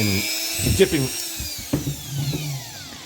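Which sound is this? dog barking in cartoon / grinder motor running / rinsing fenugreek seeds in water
grinder motor running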